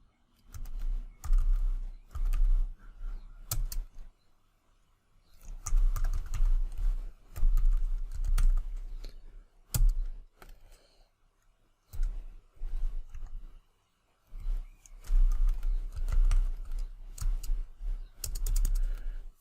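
Bursts of typing on a computer keyboard, quick clusters of close key clicks separated by short pauses, entering a password at a terminal.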